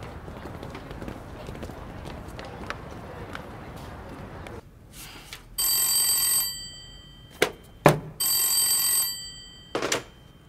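A telephone rings in two long electronic bursts in a Republic-era Chinese period drama scene, loud and clear after a stretch of busy room noise and footsteps, with short sharp knocks and clicks in between.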